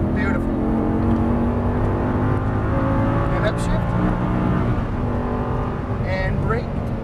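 An Audi R8 V10 with 525 hp at full throttle on a track, its engine roaring loud and steady with an upshift, under continuous talk from a driving coach.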